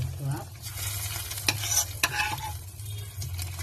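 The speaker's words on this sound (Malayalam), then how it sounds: "കട വറുത്ത് നമ്മൾ കറിയിലോട്ട്" Hot oil sizzles softly while a spoon scrapes and stirs, with a couple of sharp clinks against the pan, as a tempering is poured into an anchovy curry.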